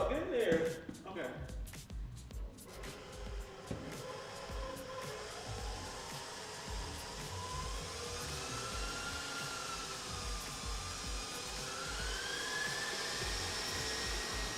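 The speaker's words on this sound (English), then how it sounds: "She needs to whisk for like a good 3 minutes." A steady electric mixer whirs through brownie batter, loud and continuous for several seconds, with someone talking and laughing over it at the start.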